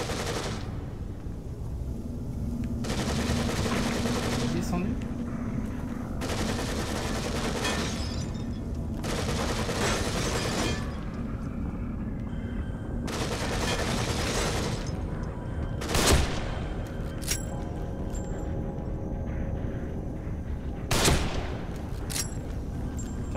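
Gunfire in The Evil Within on PS4: several sustained bursts of rapid automatic fire, each a few seconds long with brief gaps between them, followed by two sharp, louder single shots, heard fairly close over a steady game background.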